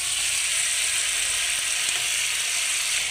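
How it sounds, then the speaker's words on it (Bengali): Meat fries in a pan with a dense, constant close-up sizzle and hiss that holds at an even level throughout, with no voices. "আর মাংসটাকে আর 2 মিনিটের মতন একটু ভাজা ভাজা করবো।"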